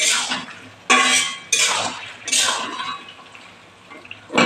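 Metal spoon scraping and knocking against a pan while pumpkin greens curry is stirred, several loud bursts of clatter separated by short pauses, close by.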